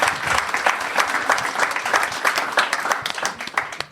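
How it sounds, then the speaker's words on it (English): Audience clapping to send off a guest during a business panel discussion, with individual claps audible in a lively, uneven patter that rises and falls. "So please give him a round of applause."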